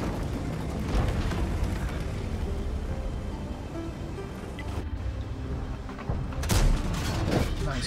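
Leopard 1 tank cannon fire in a World of Tanks style battle, a loud dense rumble of engine and distant blasts with a sharper boom near the end; no speech.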